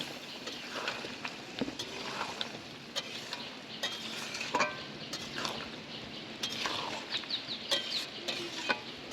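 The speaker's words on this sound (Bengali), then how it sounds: "ভেজে রাখা আলু ঝিঙে এর মধ্যে দিয়ে দেবো। দিয়ে আমি একই সাথে একইভাবে কষে নেব।" Chicken with pre-fried potato and ridge gourd is stirred and sautéed in a pan, giving a steady sizzle broken by scraping stirs and sharp utensil clicks against the pan, close by and fairly quiet.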